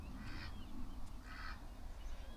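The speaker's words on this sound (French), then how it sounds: "Une poule au pied de la caravane." A hen clucks outdoors beside a caravan in the Netherlands, giving two short, faint, nasal calls over steady background noise.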